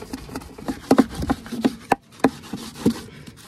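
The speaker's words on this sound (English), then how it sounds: "So go on the inside now and give it a little coat." A brush drags a sealing coat across the inside of a dry-rotted wooden beehive box, giving soft scrubbing strokes in an uneven rhythm with a few sharper taps of bristles against wood.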